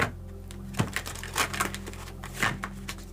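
Tarot cards are shuffled in quick, irregular riffling clicks and flicks, close and moderately loud, with a faint low hum underneath.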